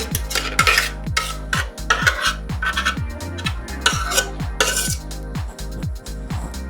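A spatula spreads cake mix across a dessert base in a bowl or pan, making close, rhythmic scraping and smearing strokes with light clinks of utensil against dish, repeated steadily with no talking.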